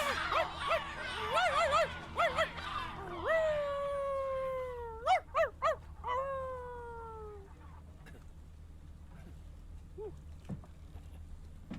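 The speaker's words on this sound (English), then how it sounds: "Oh my god, it's the seagulls." Seagulls in the video game Before Your Eyes cry out near and clear, with a run of squealing calls, a long descending wail, then a few short yelps that thin out and fade.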